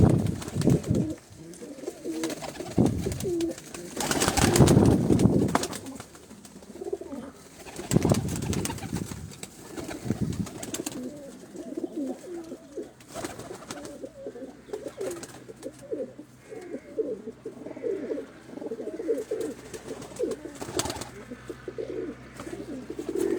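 Several Gujrat pigeons coo close by in repeated throaty, rolling calls, some louder bursts standing out, with faint rustling and fluttering around them.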